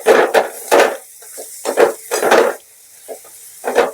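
A spoon scraping and knocking in a pan while chana masala spice mix is stirred into cooking chickpeas, a run of close, irregular clanks and scrapes with a light sizzle between them.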